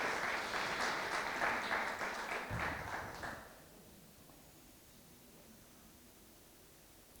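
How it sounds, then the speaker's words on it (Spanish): Applause from a church congregation, a dense burst of clapping that holds for about three seconds and then cuts off, leaving near silence. "Vamos a dar un aplauso a Jonathan."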